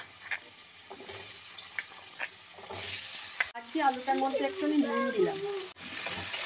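Fish heads and potatoes sizzling in hot oil in a pan for a Bengali muri ghonto, with stirring scrapes and a clatter, while someone talks over the frying.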